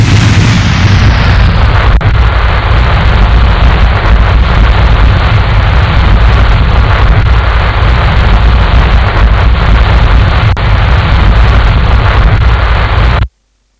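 A lander's braking thrusters firing in a space game, a loud continuous roaring rush like strong wind, steady for over ten seconds and then cutting off abruptly into silence.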